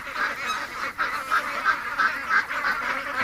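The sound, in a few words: ducks honking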